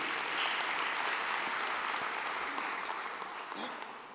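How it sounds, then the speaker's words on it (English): Conference audience at the Cape Town Conversation applauding, a steady dense wash of many hands clapping that holds for several seconds and tapers slightly at the end, with no voices over it. "please join me in applauding him for his effort to make the Cape Town conversations possible"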